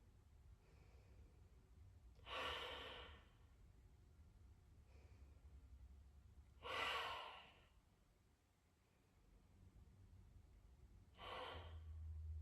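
Three slow, deep breaths during a yoga flow, each a soft airy rush a few seconds apart, close and quiet against a low steady room hum.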